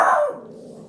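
One short, sharp dog bark sounds close, then quickly fades into a quiet room.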